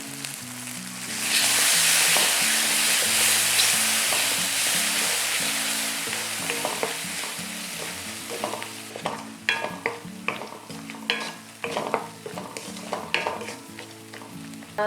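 Ground coriander paste sizzles loudly in hot oil, with salt added, for garlic coriander rice, as a spoon scrapes and stirs the pan in steady, repeated strokes; nobody speaks.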